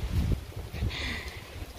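Gusts of wind buffet the microphone in low rumbling bursts, with a faint airy whoosh passing through midway.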